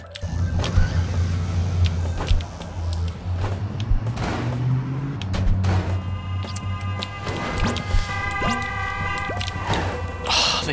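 Truck engines drone through ClusterTruck gameplay, layered with repeated crashes, thuds and whooshing motor whines as the trucks collide and swerve. The sound is busy and continuous, with no talk.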